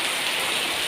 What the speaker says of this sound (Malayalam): അടിപൊളി മഴ.